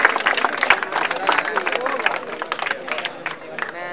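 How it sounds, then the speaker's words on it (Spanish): Audience clapping and cheering at a freestyle rap battle, a dense, continuous wash of applause and crowd noise filling the whole moment at steady loudness. "¡Un recontro de 1000 aplausos"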